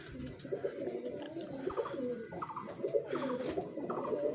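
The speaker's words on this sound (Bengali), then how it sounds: "দেখেন কবুতর ফ্লাই করে বেড়াচ্ছে।" Pigeons coo softly near a jamun tree outdoors, with scattered short chirps and calls of other birds over a faint background hiss; the coos are fairly quiet and repeat irregularly.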